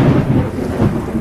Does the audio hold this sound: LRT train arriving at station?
no